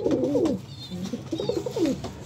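Soft, throaty pigeon coos repeat in a low rolling rhythm, close by, with faint higher chirps in the background.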